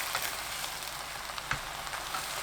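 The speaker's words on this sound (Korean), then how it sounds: "양념이 끓으면 재료들과 골고루 섞어가며 볶습니다" Young radish stir-fried with seasoning in a pan, a steady close sizzle with faint scraping stir sounds and one sharper clack partway through, no voices.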